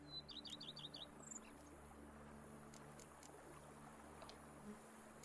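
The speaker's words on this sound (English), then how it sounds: "Bees buzzing, birds chirping." Birds chirp in a quick burst of bright, high tweets near the start within The Witcher 3's outdoor game ambience, then fade into a soft, steady background hum with only faint scattered calls.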